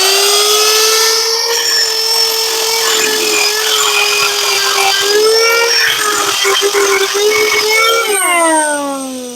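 A Harbor Freight power tool ports a cylinder head, giving a loud, steady high-pitched whine that holds for about eight seconds, drifts slightly in pitch under load, then drops as the tool spins down.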